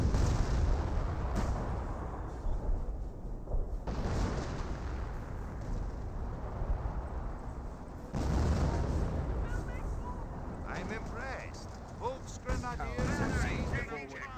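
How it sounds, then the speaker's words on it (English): Shells strike a German 88 gun in a Company of Heroes match amid continuous rumbling battle noise with heavy booming impacts, while a commentator talks over the din throughout. "Black 88 starting to take some hits."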